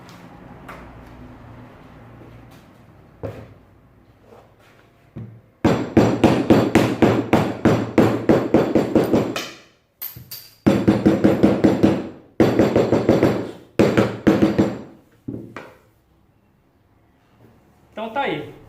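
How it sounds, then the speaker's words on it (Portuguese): Firm, evenly spaced knocks of a rubber mallet tapping a tight-fitting wooden door part in two bursts of rapid blows, loud and close, with quiet pauses between. "pegar um martelinho de borracha."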